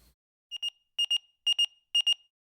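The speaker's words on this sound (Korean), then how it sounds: "그날 비상호출벨이 울린 것은 아침 식사를 하기도 전이었다" An electronic alarm bell rings in four short bursts, each a quick double or triple chirp of bright, tonal beeps, loud and clear against silence.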